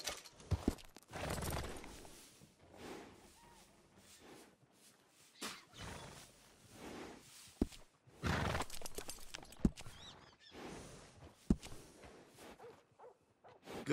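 A horse in the Western video game Red Dead Redemption 2 snorts and whinnies, its hooves clip-clopping intermittently at a stable, heard at moderate volume with no talking.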